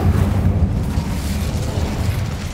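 A fire spell from Hogwarts Legacy roars as a steady, loud, low whooshing burst of flame that holds for a couple of seconds, with no voices.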